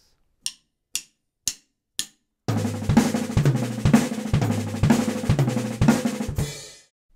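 Drum kit chop with right-left-right-left-left-kick sticking, played very fast: four stick clicks count in, then a rapid, loud rolling burst of snare and tom hits punctuated by evenly spaced kick thumps, finishing on a decaying cymbal crash.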